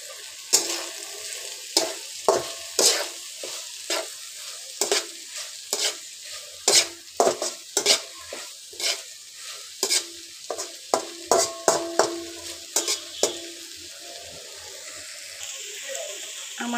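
Bitter gourd (karela) frying in oil in a pan while being stirred, a steady close sizzle broken by repeated sharp scraping strokes of the spatula at an irregular, busy rhythm, with no talk.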